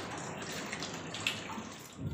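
A thin, low-pressure flow of tap water running steadily for washing dishes, a close continuous splashing hiss with no talking.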